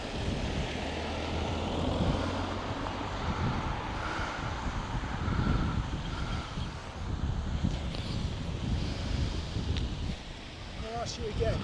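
A drone flies outdoors amid steady wind noise and a broad engine-like drone that holds throughout, loud and continuous, with scattered voices in the background.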